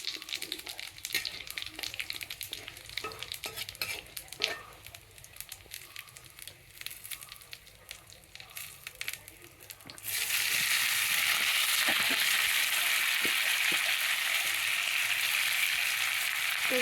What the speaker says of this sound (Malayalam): നല്ല ജീരകം പിന്നെ ഉണക്കമുളക് അതിലിട്ടിട്ടുണ്ടേ പിന്നെ ഉള്ളി ഉള്ളി